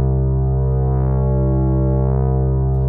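Saturated synthesizer bass with its drive control turned up, patched as a hollow bass in the Zebra synth; a steady sustained tone, rich in harmonics, holds loud and unbroken throughout, with the upper tones swelling slightly as the drive colours them.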